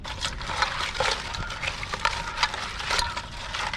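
Live mud crabs being rinsed in water, with irregular close splashes, trickles and sloshing as they are moved around, moderately quiet and without talk.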